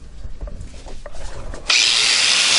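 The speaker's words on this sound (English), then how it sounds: "we're using a wire wheel mounted to a angle grinder. We're just going to clean this up" An angle grinder with a wire wheel starts up and scours rusty car quarter panel metal with a loud, close, steady whir, after a stretch of quieter handling and scraping.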